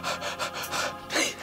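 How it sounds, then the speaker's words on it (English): A person panting hard and out of breath, with a run of quick, rhythmic gasping breaths close to the listener, each breath loud and harsh, one sharper gasp near the end. "I can't stop panting."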